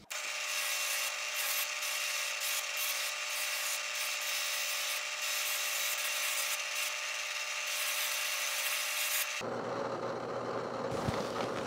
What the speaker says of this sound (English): we can switch to the flap wheel and finish out the edges